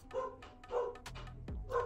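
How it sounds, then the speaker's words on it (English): A dog barks indoors in a few short, separate bursts spread across two seconds, moderately loud, with no talking over it. "My dog's barking."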